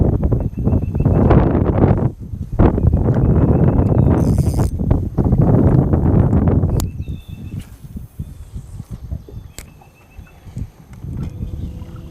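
Gusty wind buffets the microphone outdoors during a scud-fly fishing drift, a loud rumbling roar through most of the first seven seconds that then drops to quieter, intermittent gusts.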